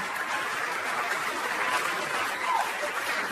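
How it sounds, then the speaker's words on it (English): A stand-up comedy audience applauds a comedian, a steady wash of clapping from the crowd that holds at an even level, with a faint voice underneath. "Please clap for him."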